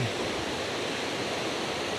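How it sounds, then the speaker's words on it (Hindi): A river in flood near Gurudwara Sri Toka Sahib roars steadily, its broadband rush of fast water loud and constant with no break or voices. "पानी का बहाव अब भी इतना तेज़ है"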